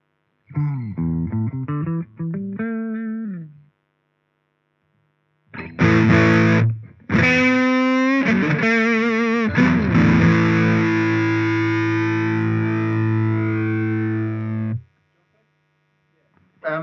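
An electric guitar is played through an Ibanez distortion pedal, first a few quick picked notes, then heavily distorted sustained chords ringing out loud and close, with a faint hum between.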